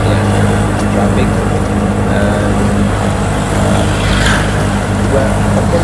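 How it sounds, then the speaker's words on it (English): Road traffic just outside Auroville, India, makes a loud, constant rumble of engines with passing vehicles blending into a dense wash of noise. "Indian traffic."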